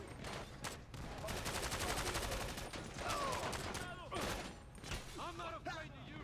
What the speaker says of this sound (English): That guy just tried to shoot me.